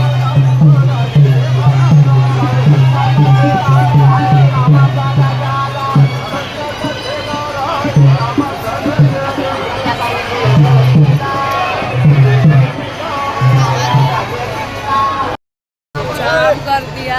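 A dense crowd surges around a palanquin procession at Jejuri temple in a loud, constant roar of voices and shouts, with rhythmic thumping drum hits through the first half and a brief dropout near the end.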